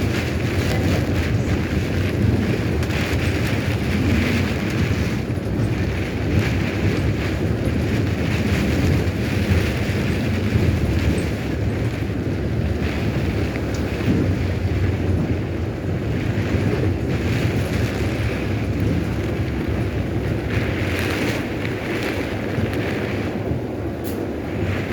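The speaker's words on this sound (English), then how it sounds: "Combination of heavy rain and wind." Heavy rain and gusting wind batter steadily in Chessington, heard from inside a bus, for the whole stretch, a dense roaring wash with low rumbling underneath and no voices.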